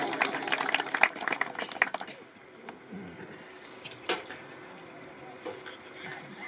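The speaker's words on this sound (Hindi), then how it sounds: "एक बारी जोरदार ताली होनी चाहिए" An audience at a Punjabi poetry gathering claps in a short, loud burst that dies away after about two seconds, leaving quiet room noise with a few faint sounds.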